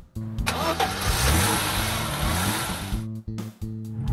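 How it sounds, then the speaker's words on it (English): A compact car engine cranks and starts, running at a steady, loud mid-pitched roar for about three seconds before cutting out into brief idle pulses. "Compact car."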